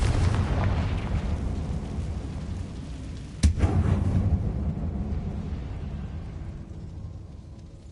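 A Confringo spell blast goes off inside a closed, tomb-like mine in a video game: one sharp, loud crack followed by a deep rumbling roar that slowly fades, over a steady low background rumble.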